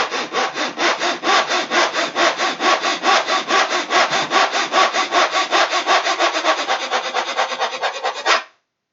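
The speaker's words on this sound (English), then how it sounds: "So it's getting the saw." Hand saw cutting through material with quick, even back-and-forth strokes, about four per second, loud and close, running steadily for around eight seconds before stopping abruptly.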